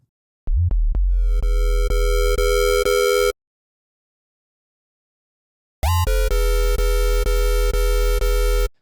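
A bright, buzzy FM synthesizer lead tone made in Serum, rich in overtones, held steady in two long notes separated by a few seconds of silence, each starting with a quick swoop.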